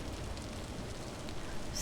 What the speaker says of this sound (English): And it's nice and rainy